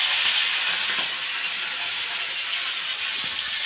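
Salted, turmeric-rubbed fish fry in hot oil in a wok, giving a steady close hiss and sizzle with faint crackles, no voices.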